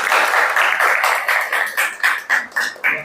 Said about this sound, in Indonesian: Silakan tepuk tangan untuk teman-teman penyaji.